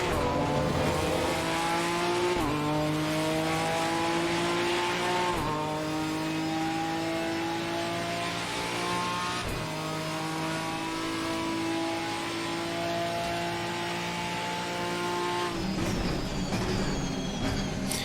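A loud GT4 race car engine in Assetto Corsa Competizione revs and climbs through gears repeatedly, with sharp shifts and a sustained high-pitched roar, no talking.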